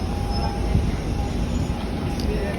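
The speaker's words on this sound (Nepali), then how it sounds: "ट्रेन त आज छिटै आइहाल्यो" London train pulling into a station, heard as a steady loud rumble with a thin high wheel squeal running through it, close and continuous.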